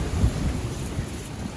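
Steady rain falling outdoors near Mount Fuji around Oshino Hakkai village, a continuous low rumbling wash with soft patter, fairly close and without any talk.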